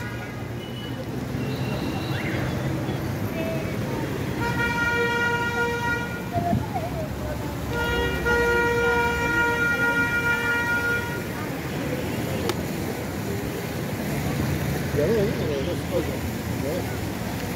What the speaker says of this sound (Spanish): Si bien hay bocinazos de los carros